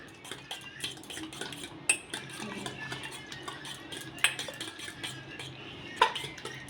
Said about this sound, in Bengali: এবার মিশিয়ে নেওয়া হচ্ছে ডিম, নুন, পেঁয়াজ, লঙ্কা একসঙ্গে।